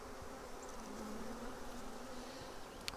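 Honey bees buzzing around an open hive, a constant dense hum with a few individual bees drifting nearer, steady and moderately quiet throughout, no voices.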